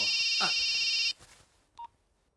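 A telephone in a Telugu action drama film scene rings with a bright electronic trill for about a second, then cuts off, followed by a faint rustle and a single short beep.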